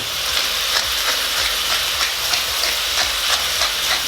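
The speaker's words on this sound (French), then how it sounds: "Alors là, on fait griller nos steaks." Beef burger patties sizzle steadily in a frying pan, a dense, even crackle and hiss held at close range with faint periodic clicks and no voices.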